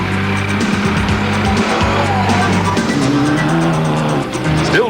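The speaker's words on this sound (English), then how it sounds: "Alpi Reinecker and Lucas Dreyer were going hell for leather in the Sasol Ford Courier" Off-road race vehicles, including a Ford Courier, at the 1992 Baberspan 500 race: loud continuous engine roar with revving and shifting tones, up close throughout.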